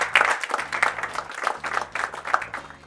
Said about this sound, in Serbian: Aplauz za ovaj govor.